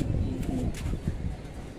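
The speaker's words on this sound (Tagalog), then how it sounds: "Ay, may kalapate ron." Pigeons cooing at a pigeon loft, a few soft low coos close by over a rumbling background.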